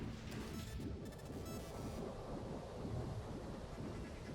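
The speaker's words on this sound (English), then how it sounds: "I'm having a hard time believing you are not hearing the rain hit the window." Rain pelting a window in a steady, dense wash, with a low rumble of thunder rolling underneath throughout, close and fairly loud with no pauses.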